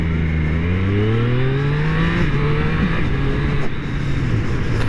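Triumph Street Triple 765 R three-cylinder motorcycle engine revving hard and steadily, its pitch climbing and holding, loud and close with a continuous raspy exhaust note and no voices.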